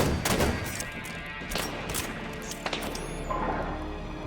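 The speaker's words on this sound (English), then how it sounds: "fuel rod makes a good noise" A fuel rod gun firing in the Halo 5: Guardians co-op campaign, a string of heavy booming impacts and crashing blasts spread over a few seconds amid busy battle noise.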